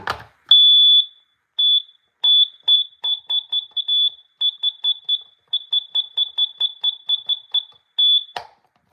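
Smoke alarm under test, sending out a long series of sharp high-pitched electronic chirps in quick, evenly spaced bursts after an opening tone. The unit is loud and close in an otherwise quiet room.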